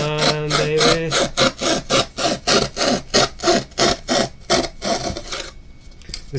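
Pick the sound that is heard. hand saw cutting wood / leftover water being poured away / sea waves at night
hand saw cutting wood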